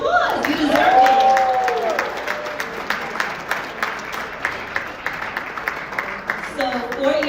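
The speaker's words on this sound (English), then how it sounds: "Give yourselves a round of applause" At a Kings County Republican Club legacy gala in Brooklyn, an audience claps and cheers together, loudest near the start and then thinning into steady, scattered clapping, while a voice talks over the first seconds.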